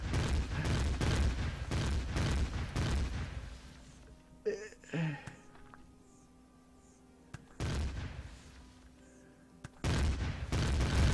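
Enemies opening fire on the player in the sci-fi survival game Empyrion: Galactic Survival, with dense bursts of gunfire that stop briefly before resuming, loud and close.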